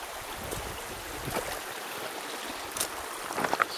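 Steady rushing of creek water flows close by outdoors, a continuous broadband wash with a few brief splashes and trickles near the end.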